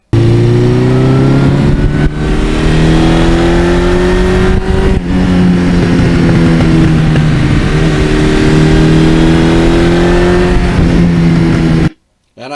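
A 1982 Suzuki GS1100E motorcycle ridden along the road, its engine droning loud and steady with gear-linked rises and dips in pitch, before cutting off near the end.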